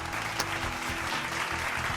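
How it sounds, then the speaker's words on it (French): Steady applause from a crowd, a dense even crackle of many clapping hands with a faint low hum underneath, offered as an ovation for the makers of a snowmobile racing game. "Et on applaudit les développeurs, bien sûr."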